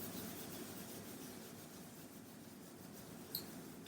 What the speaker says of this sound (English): And then rub the hands together.